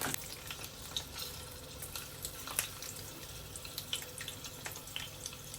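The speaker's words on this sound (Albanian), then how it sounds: "tash i kthejmë në anën tjetër dhe në anën tjetër do i fërgojmë kështu këtë mënyrë" Peppers frying in a pan for a traditional breakfast, with a steady broadband sizzle and scattered crackles and pops throughout, moderately quiet and continuous, with no talk.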